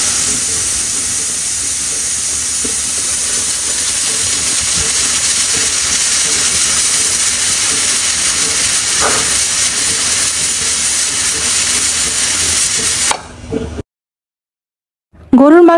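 Pressure cooker holding beef, green chillies and garlic cloves over a medium flame, giving a loud, unbroken steam hiss that stops abruptly near the end, followed by brief silence.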